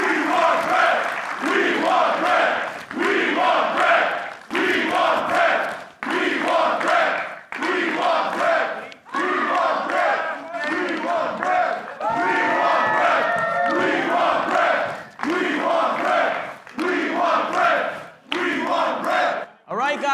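A packed wrestling arena crowd in Montreal roars and chants continuously before Bret The Hitman Hart's entrance, a loud, sustained wall of cheering with rhythmic surges and shouted calls throughout.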